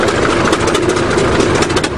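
A 20-ton bulldozer's diesel engine runs in forward gear, a loud, steady rumbling drone with a gritty mechanical rattle that continues without a break.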